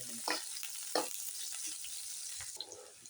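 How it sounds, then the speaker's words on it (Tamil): Sliced okra sautés in a pan for a ladies finger curry, giving a steady, close sizzle broken by a few soft scraping stirs, with no one talking. "வெண்டைக்காய் வதங்கிட்டே இருக்கட்டும்"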